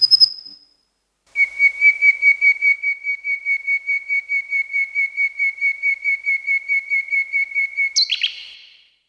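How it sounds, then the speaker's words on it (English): Nightingale song sample played from a keyboard: a long run of rapid, evenly pulsed whistled notes on one pitch, preceded by a brief high note and ending in a sharp upward flourish, clear and close with no voices. "It's another nightingale."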